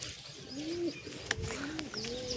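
Pigeons sitting together at their nest give soft, low, repeated coos close by, with a faint chirp or two over a quiet background.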